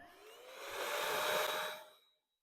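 Heat gun blowing onto fresh paint on a Mk3 Ford Fiesta, a close steady airy whoosh with a faint whine that swells, holds, then cuts off abruptly.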